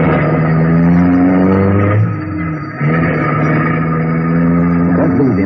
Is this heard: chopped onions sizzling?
no